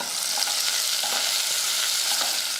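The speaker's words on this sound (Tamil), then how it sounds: "கொஞ்சமாக சின்ன வெங்காயம் போட்டு நல்லா வதக்கிக்கலாம்" Small onions sautéing in hot oil with mustard seeds, dried red chillies and curry leaves give a steady, close, busy sizzle and crackle that runs without pause and with no talking.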